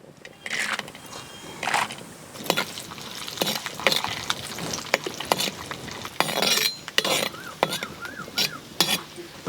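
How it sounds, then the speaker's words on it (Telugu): Cashews fry in hot oil with a soft steady sizzle, while a utensil repeatedly scrapes and clinks against the pan in uneven bursts. "ఆయిల్ నూనె అయితే కాగింది జీడిపప్పులు దోరగా ఎంచుకోవాలి"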